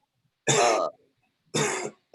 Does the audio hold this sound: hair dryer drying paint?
no